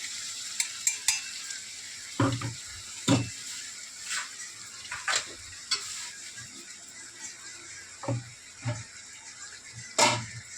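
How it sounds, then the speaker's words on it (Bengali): Chicken being stirred and sautéed in a pan for Bengali chicken kosha, with a soft steady sizzle and repeated scraping strokes of a spoon against the pan, no talking. "এই মিক্সি হওয়া জগটা দিয়ে ভালো করে কষিয়ে নেবো"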